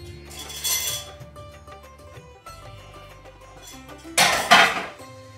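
Metal pots and pans clatter and clink while blanched vegetables are strained in a home kitchen, with a couple of sharp louder bursts of clanging between quieter scraping and knocking; no one speaks.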